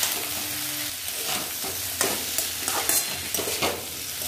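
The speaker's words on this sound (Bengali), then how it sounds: "দিয়ে এবার ভালো মতো নেড়ে চেড়ে মিশিয়ে নেব।" Potatoes, chopped onion and slit green chilies stirred in a frying pan, a continuous sizzle broken by repeated scraping strokes of the spatula, close and fairly loud.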